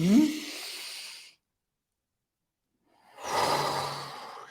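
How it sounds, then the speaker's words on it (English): A slow, deep breath during a guided mindfulness exercise, a breathy hiss that fades out, then a pause of near silence, then another long, close airy breath. "We breathe in."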